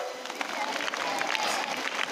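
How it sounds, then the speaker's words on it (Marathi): An audience claps along to a devotional Vitthal song at a school gathering, a dense, steady patter of many hands that keeps going without a break, with voices mixed in. "टाळ्या वाजवा"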